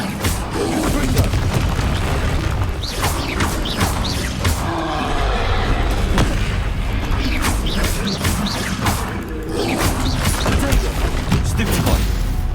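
Repeated Confringo blasting spells go off in Hogwarts Legacy, a steady barrage of explosive bursts, crashes and mechanical clatter layered over a constant loud rumble.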